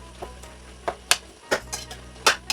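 A spoon stirs soft cooked pumpkin in a pan, giving a string of brief, close scraping and squelching strokes at an uneven pace, with a faint sizzle underneath and no talking.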